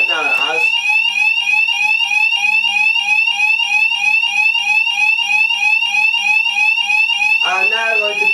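A bedroom fire alarm system sounds after a break-glass call point is triggered: a loud, steady electronic tone that fills the scene and keeps ringing without a break, with brief voices and rustling at the start and end.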